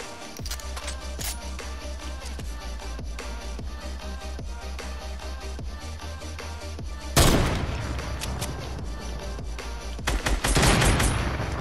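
Rapid gunfire in a video game, a long run of evenly spaced shots followed by two louder bursts of heavier, denser shooting near the end.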